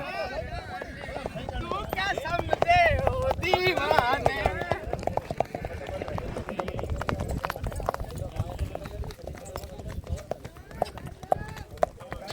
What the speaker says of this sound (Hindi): दोस्तों ये भुज का घोड़ा है